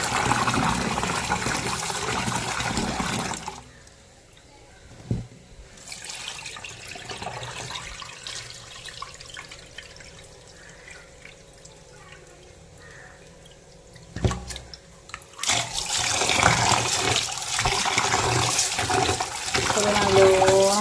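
Something is washed under running water at a kitchen sink, with loud water at the start and end framing a quieter stretch of faint trickling and a couple of clunks.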